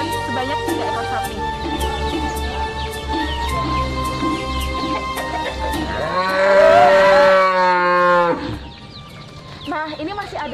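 Cattle waiting for the Eid al-Adha sacrifice at a hospital compound in Pati, Indonesia, letting out a long, loud, close moo over background music, with quieter calls afterward.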